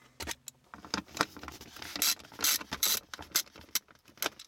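Two 10 mm bolts are backed out from under the armrest of a BMW E34, with a ratchet clicking in quick irregular bursts and metal parts jangling up close. No one talks.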